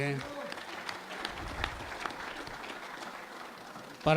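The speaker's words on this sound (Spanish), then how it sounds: "Vamos a darle un aplauso" An audience at a panel event claps for the timekeeper Rafael, a moderate, fairly distant patter of hands lasting several seconds before a voice resumes at the end.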